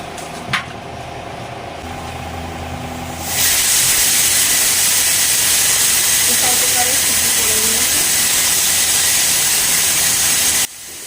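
A pressure cooker with potatoes for a jackfruit kofta curry builds up, then lets off a loud, steady hiss of escaping steam that runs unbroken for about seven seconds before cutting off abruptly.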